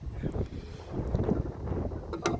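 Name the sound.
wind blowing outdoors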